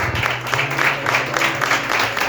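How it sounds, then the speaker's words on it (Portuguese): A church congregation applauding during a worship service, dense continuous clapping that is loud and close for the whole short stretch, with a low hum underneath. "Aplauda o Senhor com alegria"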